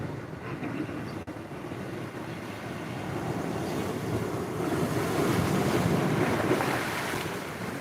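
Ocean waves washing onto a shore, a steady broad rush that swells louder midway, mixed with strong wind buffeting the microphone and no voices.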